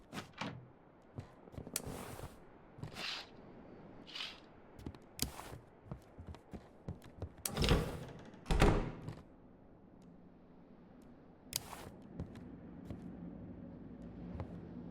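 Door opening in the horror video game Static Dread: The Lighthouse, heard as a few scattered knocks and thunks with a louder cluster of creaks and clunks midway, over quiet ambient hum.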